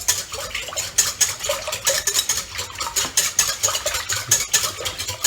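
A whisk scrapes and taps rhythmically in a bowl set over ice as chocolate mousse thickens, a busy, close metallic swishing with steady repeated strokes and no talking.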